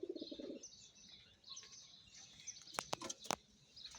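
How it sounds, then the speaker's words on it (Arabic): Ornamental lovebirds with newly hatched chicks chirp in a few sharp bursts near the end, faint and fairly close, over a quiet rural background after rain. "كذا الطيور الزينة"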